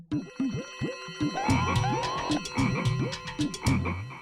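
A frog croaks in quick repeated pulses, loud and close, with a steady rhythmic series of calls and a ringing electronic tone underneath.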